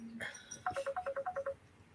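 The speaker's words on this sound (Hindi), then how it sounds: "फोन आ गया किसी का।" A phone rings with an incoming call, a quick melodic run of about nine short electronic beeps played close and clear after a brief tone.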